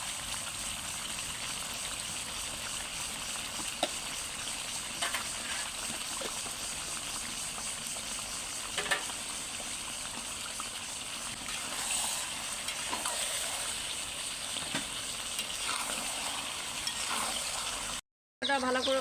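Chicken gizzard and liver with spices and cumin sizzle steadily in a pan, a continuous soft frying hiss with faint stirring scrapes throughout, briefly cut near the end.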